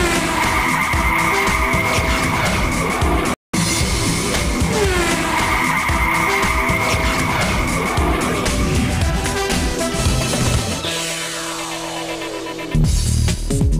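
Audi cars slide and skid across an ice track, engines revving hard under long tire squeals and scraping slides, loud and close, with a brief dropout partway and engine pitch sweeping as the cars pass.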